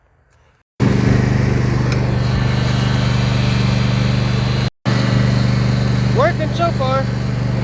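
Riding lawn mower engine running steadily and loud, towing a homemade trailer built from a wooden skid, a continuous mid-pitched drone with a brief cut, while someone talks over it.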